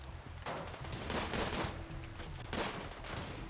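Gunfire crackles in the colony-building video game Rimworld: quiet, rapid bursts of shots and impacts that come in clustered volleys for a few seconds.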